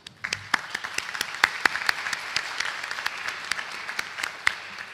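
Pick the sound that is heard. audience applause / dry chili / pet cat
audience applause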